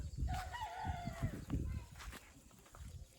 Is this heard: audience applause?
no